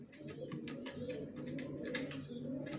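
Young racing pigeons, a hen and a cock squab, coo in a steady low continuous murmur close by, with soft repeated calls overlapping throughout and no talking.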